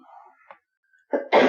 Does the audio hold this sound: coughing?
yes